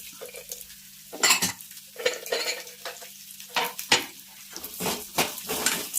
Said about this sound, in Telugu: ఇవి మంచిగా ఫ్రై చేసుకోండి.